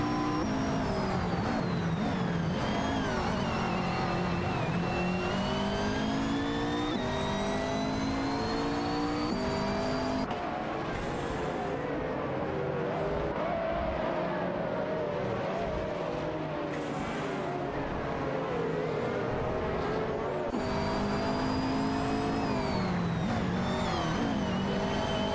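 Race car engines in an AI-driven racing video game whine and rev continuously, several cars overlapping with rising and falling pitch as they shift gears and pass, steady and fairly loud with no talk.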